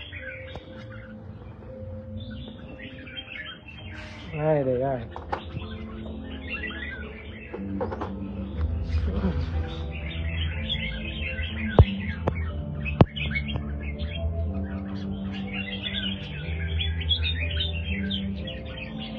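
A red-whiskered bulbul of the Jewish strain sings in bright, warbling chirps and quick phrases, close and repeated over a low background hum, with a brief spoken voice nearby.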